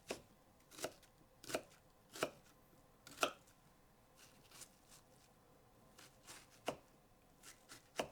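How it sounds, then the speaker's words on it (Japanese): A knife chopping onion on a cutting board while making ratatouille, a string of faint, irregular crisp strokes roughly a second apart, some louder than others, with no talk. "もう一つ、玉ねぎを切ります。"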